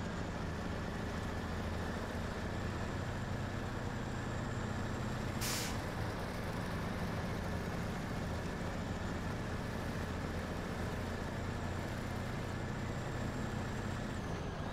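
A heavy truck engine in the SnowRunner video game labours under strain in fourth gear while towing another truck, a constant loud low drone with one brief hiss partway through.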